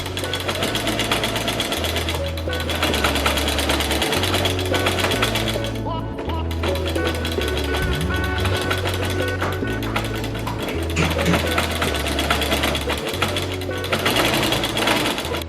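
A sewing machine runs stay stitching along the seam allowance of dress fabric, several loud rhythmic bursts of rapid mechanical needle clatter broken by short pauses, close up with no speech.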